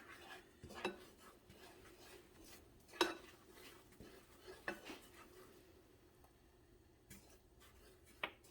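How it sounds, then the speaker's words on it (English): A utensil stirs the mixture for ham and spinach tartlets in a bowl, giving faint, intermittent clinks and scrapes against the dish, with several sharper knocks spread across the quiet background. "Stir this here a little bit."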